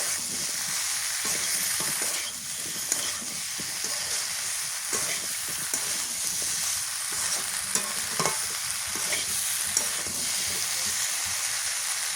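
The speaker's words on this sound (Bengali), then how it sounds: "এবার আলু আর ভেজে দিয়ে দিই" Potatoes with spices frying in a pan, a continuous bright sizzle close up with occasional stirring clicks and scrapes, no talking over it.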